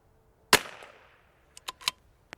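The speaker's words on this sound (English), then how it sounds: "so I'm gonna shoot at this thing" A single sharp crack from a CZ 457 rimfire rifle fires close and loud, its report decaying quickly, followed moments later by a few fainter clicks and clacks of handling.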